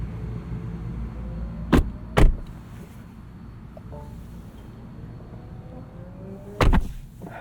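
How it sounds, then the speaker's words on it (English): The power doors of a 2023 BMW i7 xDrive60 open all at once over a soft motor hum, with a couple of sharp close clunks and one more later, heard nearby with no talking. "You can open all the doors at once."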